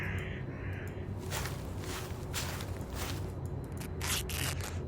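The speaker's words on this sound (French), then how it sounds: "Ouais, des corbeaux." Several crows caw in bursts in a horror game over a steady low rumble of background ambience, with the calls fairly close and loud.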